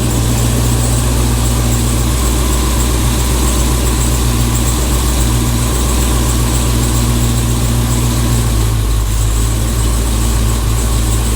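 A modified 1500hp Dodge Challenger SRT Hellcat engine idles steadily on its first start, with a deep, rumbling low-end and a slightly lumpy, uneven cam rhythm, running continuously and loud throughout.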